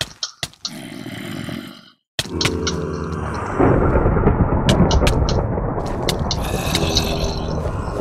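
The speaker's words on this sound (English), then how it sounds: "it's also a thunderstorm when you're in this biome" A deep rumbling video game thunder crash rolls in after a few sharp mechanical clicks and a brief silence, then lingers as a broad roar with scattered clicks.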